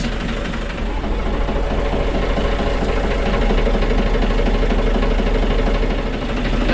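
A narrowboat engine chugs loudly and steadily nearby, a continuous low rumbling drone with a rhythmic knock throughout.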